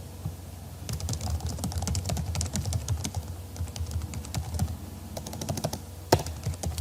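Steady typing on a computer keyboard, a continuous run of fast, light key clicks with a sharper tap near the end, close and alone with no voices.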